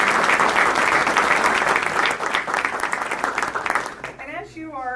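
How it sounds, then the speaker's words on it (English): Loud, dense applause from an audience at a La Habra school district cornerstone rededication ceremony, sustained for about four seconds before fading as a voice begins speaking over the tail end. "I'd like to give him a huge round of applause"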